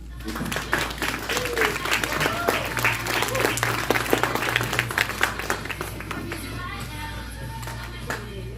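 Audience applause for a speaker being introduced at a talk, a dense steady wash of many hands clapping that swells, then thins and fades out, with faint voices beneath.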